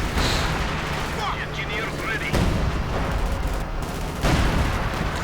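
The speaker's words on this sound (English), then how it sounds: "we are seeing artillery firing in here" Artillery fires in a Company of Heroes match, a dense, continuous rumble of booms and blasts with sharper impacts standing out. A commentator talks throughout over the noise.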